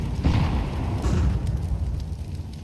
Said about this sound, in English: Let's see how this nade does.